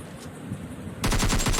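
Rapid automatic gunfire from PUBG Mobile Lite gameplay bursts in after a quiet second, a loud fast rattle of close shots that continues to the end.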